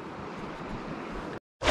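Steady broadband rush of a river flowing, heard while fly fishing at the start of the season, with constant water noise for over a second, then a brief gap and the rushing resumes loudly.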